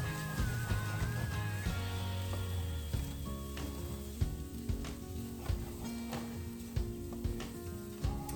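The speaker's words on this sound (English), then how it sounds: "we're just going to add the cauliflower to our pan" Cauliflower fries in a pan, a soft steady sizzle with scattered sharp ticks and clatters from stirring, close by and moderately quiet.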